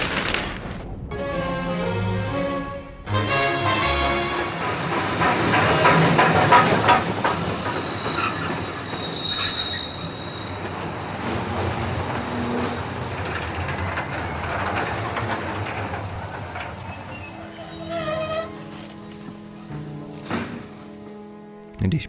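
A passenger train rolls toward Prague main station, its rumble swelling after a brief start, then carrying on with steady clickety-clack and wagon rattle before thinning out, with a few sharp squeals and clunks near the end.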